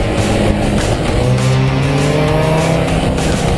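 A Mazda Miata races around a track, its engine droning steadily and loud throughout, with a shifting pitch as the car settles under light braking into a corner and carries rolling speed through it.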